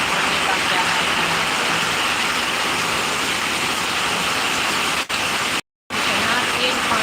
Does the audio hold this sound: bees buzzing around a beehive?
no